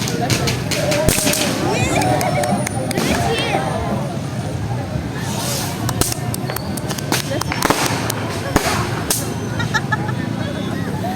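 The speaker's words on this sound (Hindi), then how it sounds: "रेगुलर 10 मिनट्स फायरवर्क्स होते रहे" Fireworks bursting over Islamabad, a dense run of sharp cracks and pops with scattered louder bangs, set against a steady crowd murmur and background chatter throughout.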